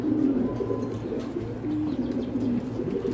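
An oversized racer pigeon coos close by, a continuous low throaty rolling purr that swells and dips in waves for several seconds, with no voices.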